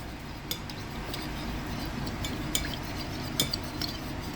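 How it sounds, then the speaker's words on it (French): Ingredients with water are being mixed together in a bowl, with steady faint clinks and scrapes of a utensil recurring over a continuous background hiss, close and fairly quiet. "On vient mélanger tout ça ensemble"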